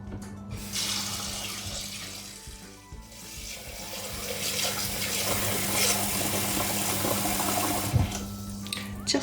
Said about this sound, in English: I'm going to pop some water in there.